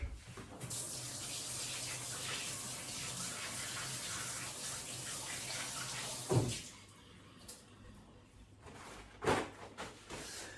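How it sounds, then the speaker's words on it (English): Running water from a kitchen tap as doughy hands are rinsed beneath it, a steady close gush for about six seconds, then quieter splashes and a short second burst, with no talking. "So I've got doughy hands now, so I'm going to give them a quick wash."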